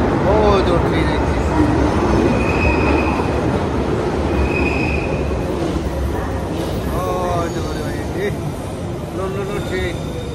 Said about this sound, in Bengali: No, train. British train.